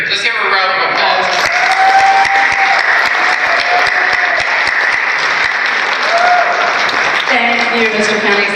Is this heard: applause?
yes